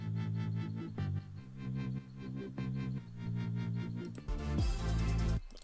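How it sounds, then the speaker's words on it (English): Synthesized bass built on a pure sine-wave sub, playing a steady, thick melodic line within a dense electronic drop mix, sustained notes changing every second or so and swelling louder near the end, with no voices. "Alright, so I made my bass sound."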